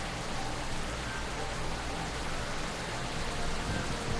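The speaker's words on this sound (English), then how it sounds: "just to close your eyes and listen to the rain and feel it" Steady rain in the VR video game RuneSage, an even, dense hiss of falling water with no breaks or voices.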